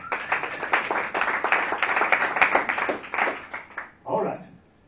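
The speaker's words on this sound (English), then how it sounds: "Another round of applause, please." An audience at a speaker showcase claps in a busy, uneven burst that thins out toward the end, with a voice briefly speaking over the last moments.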